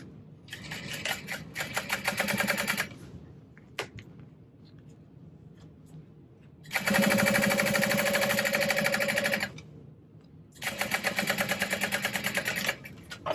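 A sewing machine runs in three bursts of rapid, even stitching as it top-stitches a bag. Each run lasts a few seconds and is loud and close, with quieter handling pauses between the runs.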